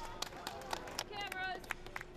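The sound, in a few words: spectators applauding marathon runners along the Tokyo Marathon course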